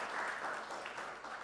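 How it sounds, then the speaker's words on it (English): Audience applause greets a guest coming on stage at the Nairobi circular economy launch, a steady, moderately faint wash of clapping sustained throughout with no one speaking over it. "Let's give a round of applause as he comes on stage."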